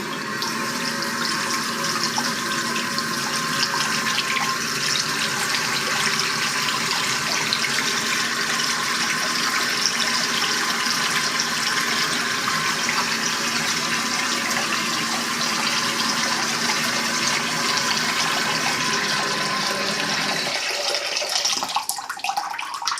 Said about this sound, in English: we'll go ahead and run some water so you guys can see the LED effect